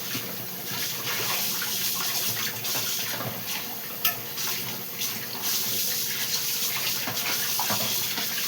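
Fresh fish being rinsed by hand under a running kitchen tap, a steady close gush of water with small splashes and knocks throughout, no talking.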